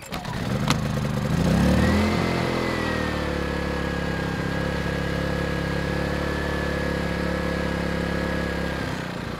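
An Erayak 4500P portable generator engine idles steadily and low on auto idle for several seconds after a brief starting surge, a constant droning hum with a faint whine on top.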